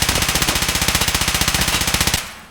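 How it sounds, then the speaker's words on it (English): SIG MCX rifle firing a long full-auto burst in Escape from Tarkov, about two dozen evenly spaced loud shots in quick rhythm, then the burst stops and a short echo fades out. "So these shots here, I only missed 2 shots."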